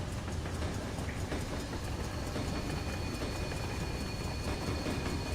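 Train running on rails in Train Simulator on the Fairford Branch, a steady rumbling roll with regular rhythmic clicks of wheels over rail joints, continuous and close, with no voices.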